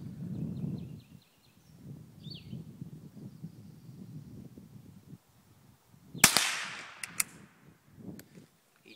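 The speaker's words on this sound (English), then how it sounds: "We're just going to try one of these little Winchester shells here." A small rifle fires Winchester lead-bullet shells: after several seconds of quiet low rumble, one sharp crack rings out, followed a second later by a fainter snap.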